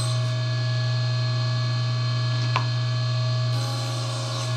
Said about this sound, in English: I'll lower the blade to just 1/8 of an inch above the surface, move the fence over, and finish the cut.